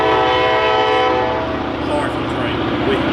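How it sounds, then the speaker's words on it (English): A train passes nearby with a loud, sustained horn blast and a steady rumbling roar throughout, while someone speaks faintly underneath. "Sorry for the train."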